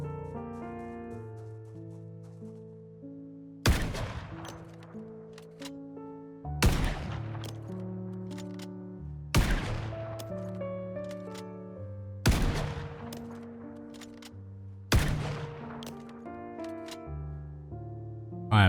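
Gunshots in the zombie survival game Project Zomboid: six loud, sharp single shots spaced a few seconds apart, each ringing out and decaying over a soft background of sustained musical tones.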